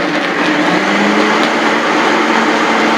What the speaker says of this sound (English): spin the blender up. Like to start out on slow, get it running a little bit, then crank it up to high.